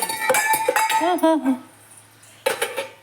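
Steel utensils and serving spoons clink and scrape against a plate as a home-cooked mutton meal is served for a birthday, in several quick bursts with voices talking around them.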